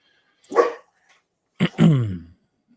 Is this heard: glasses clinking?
no